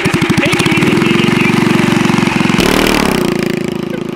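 A Predator 212 Ghost racing engine on a small ride-on kart runs loud and close with a rapid, buzzing single-cylinder putter that holds steady, then shifts pitch briefly as the revs change before settling again.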